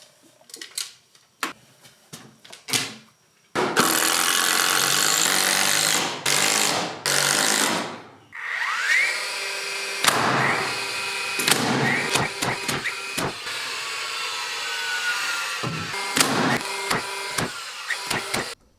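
Drill driving screws into a door jamb during a pocket door installation, with long whirring bursts and short stuttering pulses of the motor, separated by quiet pauses and clicks, close by with no talk.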